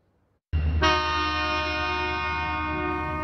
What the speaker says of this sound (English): As the train rumbles past 4th and Evans